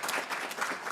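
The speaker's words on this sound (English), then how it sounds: "Round of applause for that response." An audience at a Native American Heritage Month kickoff panel claps steadily in a brief, moderately faint burst of applause with no talking.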